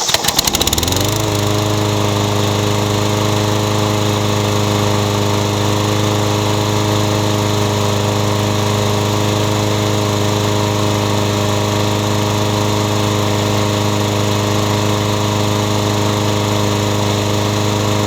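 A petrol lawn mower engine starts and then runs steadily at a loud, constant drone after an oil change and blade sharpening, with no talk.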